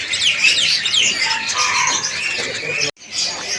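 Many caged birds chirp and tweet densely at a kiosk in the Pramuka bird market in heavy rain, a loud continuous chorus of overlapping calls that cuts out briefly near the end before resuming.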